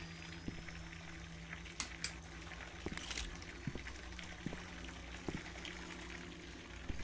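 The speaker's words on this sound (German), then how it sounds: "Warum auch immer da jetzt Wasser einläuft." Water runs and trickles in the horror video game Visage, a steady bubbling flow with scattered faint clinks and taps. It is fairly quiet and there is no talking.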